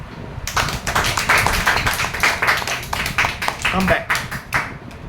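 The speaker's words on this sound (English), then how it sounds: "Clap for him." A group claps together in a steady burst of applause lasting several seconds, with voices mixed in underneath.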